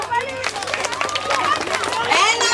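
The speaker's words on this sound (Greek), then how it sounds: "Θέλω τώρα μόνο ένα χειροκρότημα για να δω." A crowd at an outdoor environmental happening claps in response to a call for a single clap, producing a burst of mixed hand claps over lively chatter and babble, with voices talking throughout.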